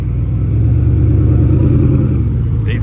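A Koenigsegg Regera supercar accelerates past at a car-spotting event, its engine giving a loud, steady low roar that fills the whole stretch.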